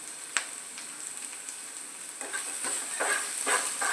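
Sliced onions sautéing with curry leaves and salt in a pan, a hissing sizzle punctuated by a few sharp spatula knocks and scrapes that thicken toward the end, close and without speech.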